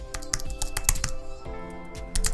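Quick clattering keystrokes on a computer keyboard as a website name is typed, an irregular run of close, crisp clicks with short pauses between bursts.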